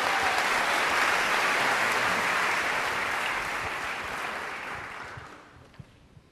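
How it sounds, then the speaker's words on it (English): Audience applause at a Tanglewood jazz festival concert, a dense steady roar of clapping that holds strong for several seconds, then thins and fades out near the end with a few last scattered claps. "You can applaud it."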